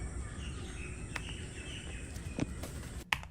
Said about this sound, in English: hear a mix of bugs and birds